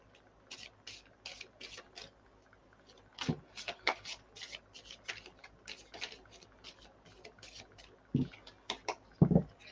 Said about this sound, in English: Give them a really good shuffle.